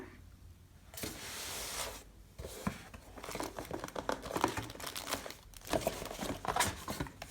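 Protective plastic bag around a Farmasi cosmetics parcel rustles and crinkles in bursts while being handled during unboxing, with short pauses between the crackling handling sounds.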